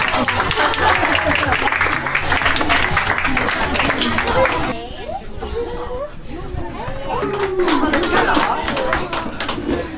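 Audience applause at a children's hospital in Gothenburg, clapping mixed with excited chatter and cheering voices; the clapping thins midway as talk and shouts take over, then swells again.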